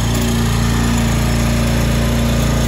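A Toro Timemaster 30-inch lawn mower engine with a carburetor that sat for months runs steadily without surging, a loud close buzzing drone with an even pulsing hum throughout.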